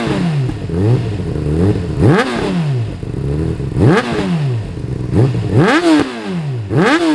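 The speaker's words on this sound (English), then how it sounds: "we'll give a couple little raps for you and see what it sounds" A warmed-up 2007 Honda CBR600RR sport bike with a Toce exhaust blips its throttle in a handful of sharp, loud revs, each rising quickly and falling back to a rough idle, with no talking over it.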